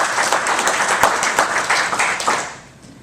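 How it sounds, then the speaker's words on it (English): A room full of people claps at an evening civic event, the applause steady and fairly close before fading out over the last half second. "Let's give them a round of applause."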